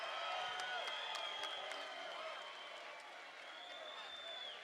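Boxing crowd at a Friday night fight at a casino arena applauds and cheers after a technical-knockout stoppage, a steady wash of clapping and crowd noise that eases slightly partway through, with a voice faintly over it.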